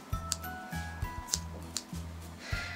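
Scissors trimming a long-haired guinea pig's fur, a close series of crisp snips in an uneven rhythm, about half a dozen cuts with brief pauses between them.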